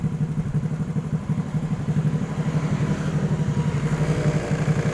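A Honda Vario scooter engine runs and is revved with the throttle, giving a steady, close, mid-pitched motor drone with a rapid pulsing texture and slight rises in intensity throughout.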